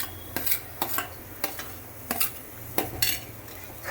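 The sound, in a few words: onions and green chillies frying in pan for paneer bhurji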